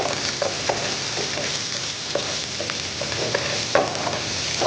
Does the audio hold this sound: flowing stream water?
no